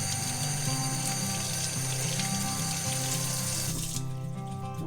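Water splashing and pouring over a JBL Flip 3 portable speaker as it keeps playing music, a steady running rush under the tune, close and loud, cutting off near the end.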